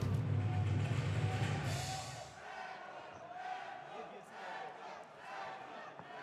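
A crowd of fight fans at a kickboxing event cheers and roars in a large arena, loud at first and then settling into a steady murmur with scattered shouts.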